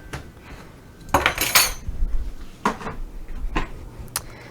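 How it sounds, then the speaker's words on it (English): A whisk clatters through dry cake ingredients, flour and baking powder, in a bowl, with sharp metallic scrapes and clinks against the bowl's sides in a few bursts over a steady background. "We're just going to whisk these together like so."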